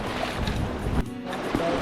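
Footsteps wade through shallow river water on a hike in Zion, with splashing and sloshing surges in irregular bursts, moderately close, under light wind.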